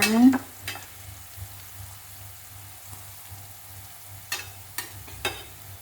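Ginger, galangal and turmeric dropped into a pan of wilting cabbage, a low sizzle with scattered stirring scrapes and clanks, louder at the start and again toward the end.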